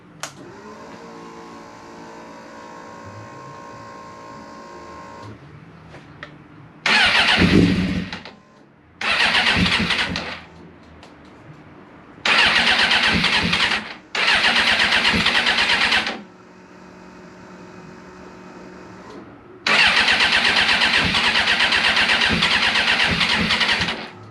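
A carbureted 1996 Suzuki GSX-R 750 SRAD track motorcycle is cold started. A low idle-like drone is followed by several loud bursts of revving or cranking separated by short quieter gaps, ending in a longer loud run close to the microphone.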